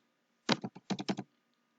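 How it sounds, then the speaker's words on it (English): Keys on a computer keyboard tapped while entering numbers into a spreadsheet, a quick close cluster of about six crisp keystrokes in under a second, then quiet. "Here I am typing 1 and 2."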